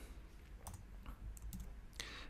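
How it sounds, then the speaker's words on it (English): A computer mouse is double-clicked while working in Adobe Illustrator CC 2018, giving faint, sharp click pairs spaced through a quiet room with no talking. "double click."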